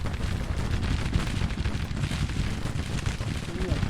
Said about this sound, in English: The cannons are wreaking havoc on them.